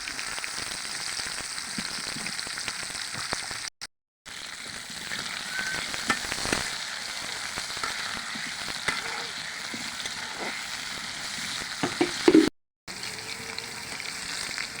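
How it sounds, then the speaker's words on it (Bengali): Pointed gourd (potol) pieces frying in oil with salt and turmeric, a steady close sizzle with occasional stirring clinks, interrupted by two brief silent gaps. "পটলগুলো ভেজে নিব।"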